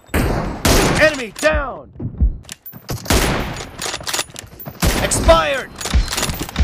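Sharp gunshots from an M24 sniper rifle in PUBG Mobile go off in several loud separate bursts, with in-game voice callouts and announcements spoken between and over the shots.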